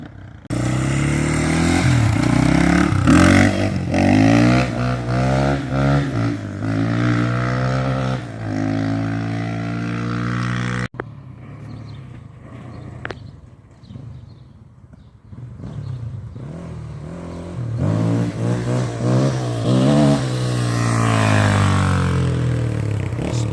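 Honda XR400 dirt bike with electric start revving hard on its first ride: a loud, close engine whose pitch climbs and falls repeatedly, dips briefly near the middle, then roars back up.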